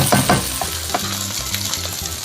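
Masala for egg curry fries in a pan with a steady close sizzle and occasional stirring scrapes, and no talk over it.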